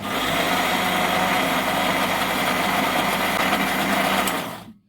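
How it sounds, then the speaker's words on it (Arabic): An electric blender grinds sesame seeds and flour with a loud, steady high-pitched motor whine and gritty churning, running continuously before it abruptly cuts off at the end. "كده احنا حطينا نص كميه السمسم والدقيق وهنضرب في الخلاط"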